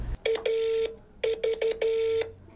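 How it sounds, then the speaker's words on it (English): Telephone tones sound close and clean: a few short beeps, then a longer tone, another quick burst of beeps and a final sustained tone, like a number being keyed and a call placed. "Dial tone. All we hear is a ringing and nothing."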